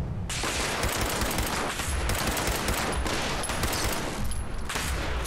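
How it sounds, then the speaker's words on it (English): Rapid, continuous gunfire from Fallout 76, dense automatic bursts rattling loudly with brief pauses between volleys. "If only you could hear the gunshots way over there, Dean."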